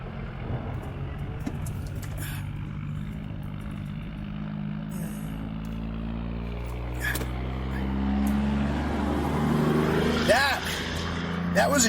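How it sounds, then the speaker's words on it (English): A giant truck roars past on an Oklahoma highway, a heavy rising engine and tire rush that swells near the end while a car drives east on Route 62, with a person talking inside the cabin. "That was a giant truck."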